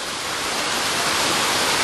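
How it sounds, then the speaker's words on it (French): A waterfall on a Caribbean stream in Trinidad and Tobago roars as a steady, dense wash of white noise, loud and close, with no breaks and no voices. "Et Gérard qui essaie de grimper la cascade"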